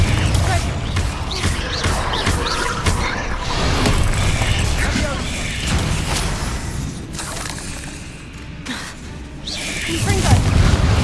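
Repeated Confringo explosion spells in a video game, a series of heavy booms and crashes over a busy game background, with a voice talking throughout.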